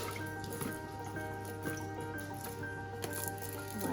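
Almond milk glugs and splashes from small cartons into a bowl for lactose-free crêpe batter, a close, continuous liquid pour with soft squishy gurgles.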